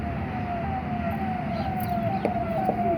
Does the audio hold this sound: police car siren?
yes